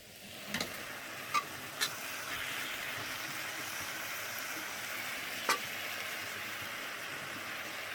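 Water spinach greens fry in a pan with a soft, steady sizzle, joined by a few sharp clicks and taps of stirring, quiet and close with no talking.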